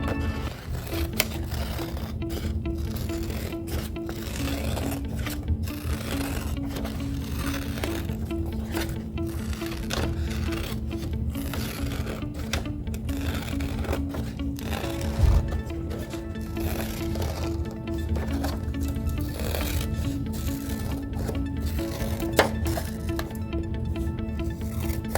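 Scissors snip steadily through paper, cutting out a dinosaur head shape for a collage, with a continuous crisp rustling and small irregular cuts up close and no talking.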